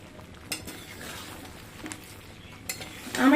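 Mango sweet-sour pickle cooks in a pan as a utensil stirs it, with soft scraping and occasional clinks over a low steady simmer and a louder scrape at the end.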